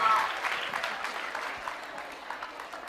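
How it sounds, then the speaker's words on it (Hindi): An audience at a Dev Anand quiz show claps loudly and steadily, with sustained dense clapping that fades slightly toward the end. "जोरों से तालियां बजाइए"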